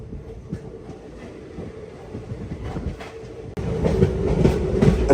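A moving passenger train at night near Koderu railway station, heard from onboard as a steady rolling rumble with clickety-clack rhythm that jumps louder partway through.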